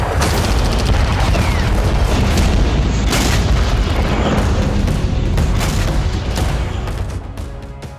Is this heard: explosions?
yes